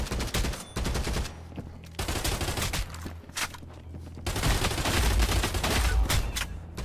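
Shotgun blasts go off in a VR shooter, with several loud, sharp reports spread across the stretch amid rapid gunfire, the heaviest and densest near the end.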